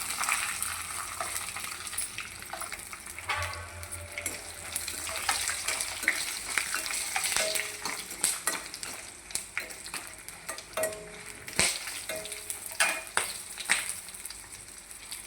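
Cumin seeds and garlic sizzle and crackle in hot oil in a pan for a bachali kura pachadi, with a spoon scraping and stirring throughout, close and steady.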